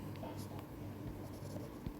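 Brief pen or chalk strokes jot an abbreviation on a board during a Hindi current-affairs class, faint scratching under a steady background hum.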